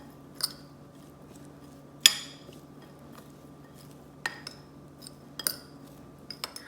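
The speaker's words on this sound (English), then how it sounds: "Let's give that a stir." Metal spoon stirring diced onion and pepper in a pot, giving a few sparse clinks and scrapes against the sides, close and quiet over a steady low background hum, with no talking.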